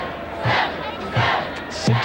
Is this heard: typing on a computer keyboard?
no